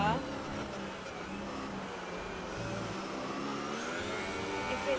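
Ferrari-engined race cars in the racing game Inside Line Racing drone steadily at a moderate level, a continuous engine whine with shifting pitch heard under ongoing commentary talk.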